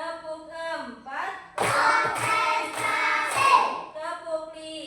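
Children in a second-grade classroom clap their hands together in a counted clapping routine, a brief burst of quick claps in the middle, with an adult voice speaking before and after.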